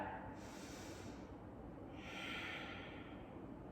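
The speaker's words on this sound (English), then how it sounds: "take a breath in and out" Slow, deep breath in and out during a yoga session, a soft airy inhale swelling then easing before a longer, fuller exhale, close and steady with no talking.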